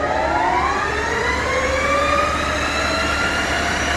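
A Victor 1640B metal lathe spins at its top speed of 2,000 RPM, giving a loud, steady whine with sliding tonal hums layered over a low motor drone, with no talk.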